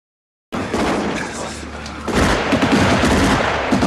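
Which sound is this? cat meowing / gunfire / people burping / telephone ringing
gunfire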